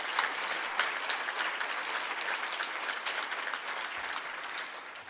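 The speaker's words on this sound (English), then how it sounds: "Let's give them a round of applause, please," An audience claps at a Habitat for Humanity Women Build breakfast, dense, steady applause from a full room holding for several seconds before tapering slightly.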